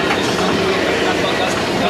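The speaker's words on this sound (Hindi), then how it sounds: "मैं अभी हूँ कश्मीरी गेट मेट्रो स्टेशन पे" A Delhi metro train at Kashmiri Gate station rolls past with a loud, continuous rumbling rush of wheels and carriage noise, filling the whole moment close by.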